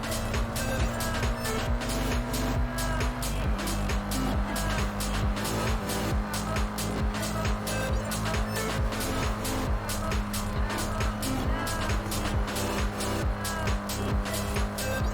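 Full-throttle car engine in Forza Horizon 5 on a mixed road and dirt course, a loud, steady, high-revving drone with a rhythmic pulsing beat running throughout.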